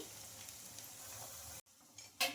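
Poha fritters (punugulu) frying in hot oil: a steady, faint sizzling hiss with a brief break, then a louder crackle as the fritters are stirred or turned.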